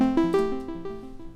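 Teenage Engineering OP-1 synthesizer patch run through a delay effect: a short bright melodic phrase whose notes ring on as repeating, gradually fading echoes, clear and close with no talking.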